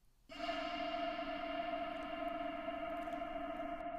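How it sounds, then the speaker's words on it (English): A sustained, bright sample tone in Reason music software starts abruptly and rings on evenly, washed in a thick reverberant tail that lingers without fading much. "After you play it back, you should hear your sample with the reverb"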